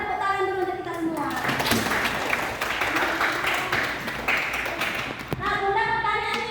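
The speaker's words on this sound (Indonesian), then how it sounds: "Beri tepuk tangan dulu untuk kita semua" Schoolchildren in an Indonesian primary classroom clap together in a steady, dense burst of applause lasting several seconds, with voices of a teacher and pupils at the start and end.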